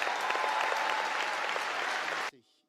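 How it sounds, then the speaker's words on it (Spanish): An audience at a round-table discussion breaks into sustained, even applause that fills the space, then cuts off abruptly near the end. "le aplaudieron mucho"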